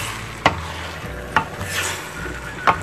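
Chicken browning in olive oil in a pot for a Moroccan-style dish, a steady low sizzle broken by three sharp scrapes and clacks of a utensil stirring against the pot, spaced about a second apart.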